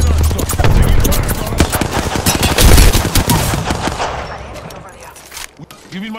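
Rapid automatic gunfire crackles in dense bursts during a video game firefight, loud and sustained for several seconds before thinning out, with a voice speaking over it.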